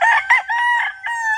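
A gamecock with mismatched eyes crows loudly and very close, one strained, drawn-out call broken into several rising and falling segments, with no voices over it.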